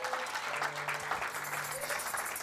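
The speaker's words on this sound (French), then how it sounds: "Est-ce qu'on peut acclamer pour le roi de rois." Church congregation applauding during a Sunday worship service, steady dense clapping throughout with a faint voice underneath.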